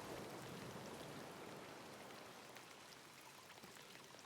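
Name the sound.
rain falling in the video game Peppered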